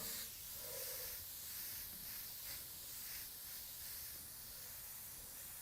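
A steady, soft hiss of spray paint continues throughout with slight pulsing, faint and close, no voices.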